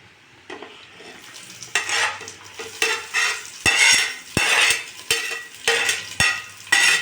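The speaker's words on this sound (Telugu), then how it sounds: "సన్నగా తరిగి పెట్టుకున్న ముందుగానే ఉల్లిగడ్డ వేసుకొని వేయించుకోవాలి" Thinly sliced onions fry in hot oil while a metal spoon scrapes and clinks against the pan in repeated stirring bursts, loud and close over a constant sizzle.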